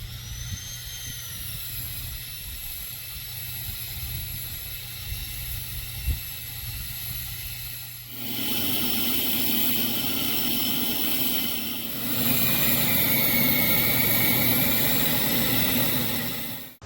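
A Milwaukee 7200W lithium battery power supply drives a lineman's capstan puller and blower, a steady motor drone that jumps louder and fuller partway through, then again, as the load comes on, with no talk.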